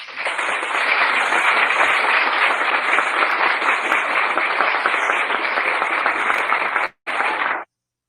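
Loud, sustained applause from a large audience, steady clapping that fills the space before cutting off abruptly near the end.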